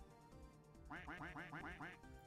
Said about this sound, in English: Gotta quack the duck.